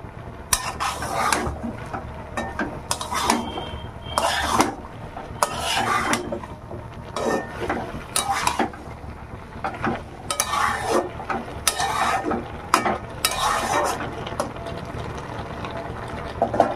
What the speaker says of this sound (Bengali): একটু নাড়া দিয়ে দিলাম।